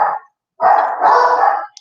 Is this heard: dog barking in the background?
yes